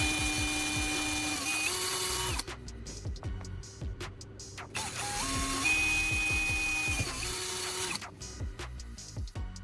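A small power drill boring holes into PVC pipe at a workbench, two long steady whirring runs with a brief pause between, close and fairly loud with no talking.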